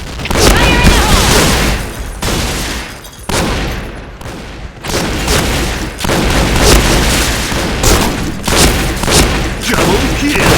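A grenade explodes in a video game shooter among constant loud gunfire, with heavy booms and a dense barrage of shots that sound close and fill the whole stretch.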